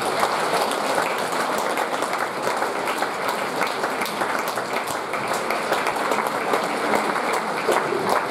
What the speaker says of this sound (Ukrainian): Ваші аплодисменти.